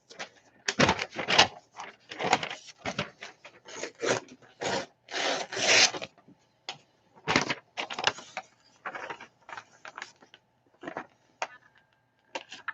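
Pan pastel being rubbed onto a Gelli plate, heard close as repeated short scratchy strokes in irregular bursts with brief gaps, no voices over it.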